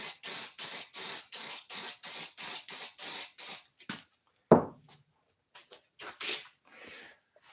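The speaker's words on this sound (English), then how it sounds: "just go ahead and spray it and stick it" Rapid repeated bursts of a spray adhesive can hiss in an even rhythm while an airplane seat is recovered with leather, then a few scattered shorter sprays and a thud, close and clear.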